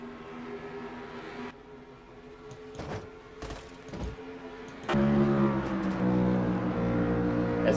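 Race cars engines drone and shift on a one-mile oval track as cars draft near 158 mph, a sustained roar that drops then surges louder and richer partway through.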